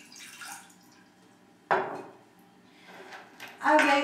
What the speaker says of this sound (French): Donc vous versez votre eau